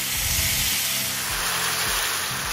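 Steady broadband sizzling and hissing from marinated chicken frying in a hot pan, continuous and close, with a faint high whine joining partway through.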